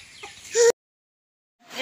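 A hen clucks a few times close by on a farmstead with ducklings around, the calls rising to a louder squawk before silence, then resuming faintly at the end.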